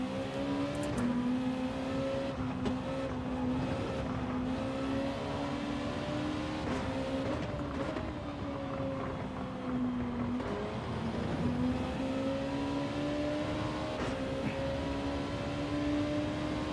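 A race car engine in Gran Turismo 7 drones continuously through a race, its pitch rising as it accelerates and dipping briefly at gear changes, loud and steady with faint tire and contact noises underneath.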